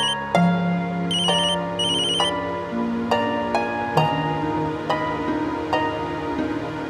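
A phone rings unanswered, its melodic ringtone stepping through a looping tune of bright tones, fairly loud and close, with no voices.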